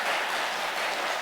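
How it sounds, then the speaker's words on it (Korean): A crowd claps steadily, dense and fairly close, with no voices over it, for just over a second. "박수 좀 쳐주세요"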